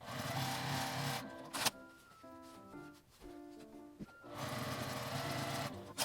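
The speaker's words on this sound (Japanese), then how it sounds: "折り目の底にアイロンをかけて両端に端ミシンをかけておきます" A sewing machine runs edge stitches along the folded ends of fabric for a handled shoulder mini tote, its motor buzzing in steady bursts with brief pauses between runs, close and fairly loud.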